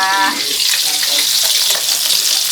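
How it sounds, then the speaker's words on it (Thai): Snakeskin gourami fish frying in hot oil, giving a loud, close, steady crackling sizzle that runs unbroken throughout, with no talking. "เช้านี้เราก็จะมี ทอดปลา ทอดปลา"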